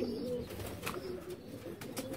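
Pigeon held in the hand, a Yellow Eye high flyer, giving low soft cooing under a steady near background with a few faint bright ticks.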